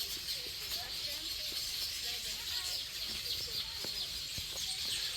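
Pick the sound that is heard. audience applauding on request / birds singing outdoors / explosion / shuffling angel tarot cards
birds singing outdoors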